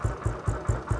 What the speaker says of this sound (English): you guys hear the sound of the engine